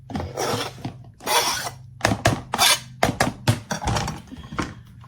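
A knife chops half a tomato on a cutting board for pasta salad, a series of irregular close thunks and clicks in quick bursts, with no voices.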